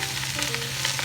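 A large batch of onions for French onion soup hissing and crackling in hot oil in a pan, a dense, loud, steady sizzle up close with no talking.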